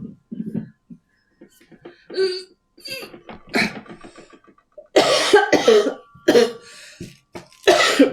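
Several harsh coughs burst out in the second half, loud and close, after a stretch of scattered clicks and soft sounds.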